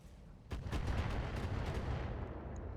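Missiles striking in a military video game: a sharp onset of rumbling impacts with several layered bursts and crackles, sustained and fairly distant, fading slowly into a low roar.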